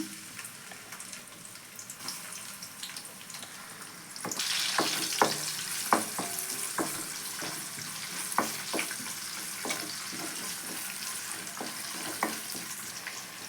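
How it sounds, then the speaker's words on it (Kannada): Onions dropped into hot oil in a pan burst into a louder frying sizzle partway through, followed by a steady hiss with scattered spatula clicks and scrapes, close up. "ಎಣ್ಣೆ ಬಿಸಿ ಆಗಿದೆ ಈರುಳ್ಳಿ ಸೇರಿಸ್ಕೊತಿದ್ದೀನಿ ನಾನು"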